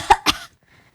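A voice imitates a cough with two short, sharp coughing bursts close to the microphone, followed by near silence.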